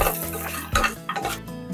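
Cloves and coriander are stirred in a pot for a Kashmiri chicken yakhni pulao, making a few short, close scraping strokes of a spoon against metal.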